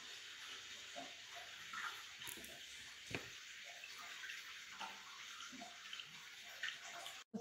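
Water pours steadily into the tub of a Costway mini washing machine with spin dryer, a continuous close hiss and splash with a few small knocks and no talking.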